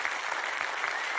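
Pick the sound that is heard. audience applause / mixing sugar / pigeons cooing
audience applause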